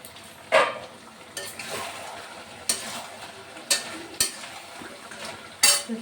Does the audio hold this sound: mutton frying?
yes